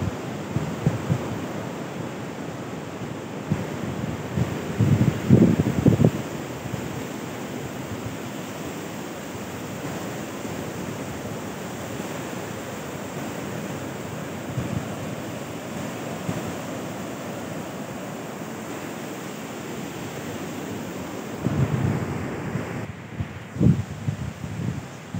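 Waves wash continuously onto a beach shore at Malapingan, a broad steady roar with swells surging louder near the start and end, mixed with wind buffeting the microphone; no talking.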